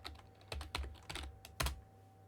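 Typing a command on a computer keyboard: a quick, irregular run of soft clicking keystrokes, close and quiet, with no voices.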